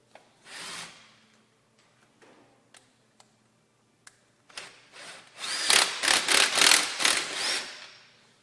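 A power tool tightens the bolts that hold a shock to its mount while a long-travel kit is fitted to an EZGO golf cart. Scattered light clicks and taps lead into a run of sharp, close, whirring tool bursts.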